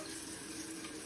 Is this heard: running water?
yes